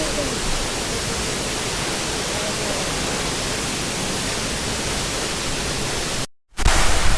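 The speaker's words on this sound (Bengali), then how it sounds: "এই ঝর্ণার নাম হচ্ছে লাউড়া ঝর্ণা" Laura waterfall in Meghalaya roars as a dense, steady broadband rush of falling water, loud and close, briefly dropping out before resuming.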